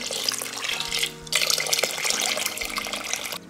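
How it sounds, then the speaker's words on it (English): Water poured into a cooking pot of vegetable broth seasoned with Italian herbs and bay leaves during healthy meal prep, a steady, close splashing stream for about three seconds with a short break early on. "Plus some more water"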